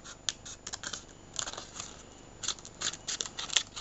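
Scissors snip through old corrugated cardboard being shaped into orc terrain pieces, a run of short, crisp crunching cuts in uneven bursts, close and fairly quiet with no talking.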